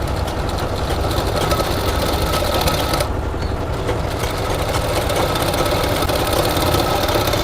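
Sewing machine running steadily as it stitches a straight seam along a folded palazzo pant belt, a continuous close mechanical whir with no talking.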